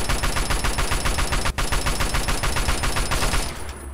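A super mutant in Fallout 3 fires a minigun in one long, rapid, evenly spaced burst of loud, close shots that runs for several seconds with only a brief break.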